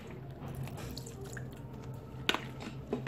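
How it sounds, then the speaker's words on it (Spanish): Water drips and trickles into homemade blue glue slime in small, soft, squishy splashes. It is fairly quiet, with a few sharper wet plops toward the end. "ahora le voy a echar agua"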